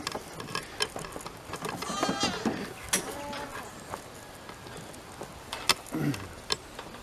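Goats with horns bleat a few times outdoors on a farm, short wavering calls at moderate distance, mixed with rustling, small knocks and faint background noise.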